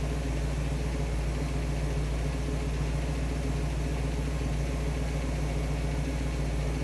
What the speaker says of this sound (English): Idling at 870.